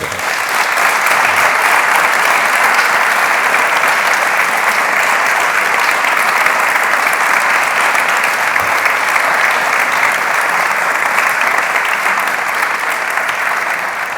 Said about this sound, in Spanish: Creo que merece un buen aplauso.